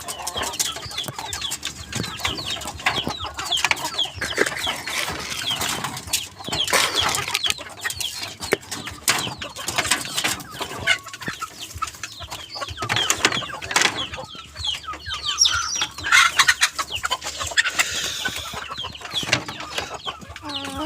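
Hens cluck and chatter in a pen alongside other fowl, a busy mix of overlapping clucks and calls with occasional clanks and rustling, fairly close and continuous throughout.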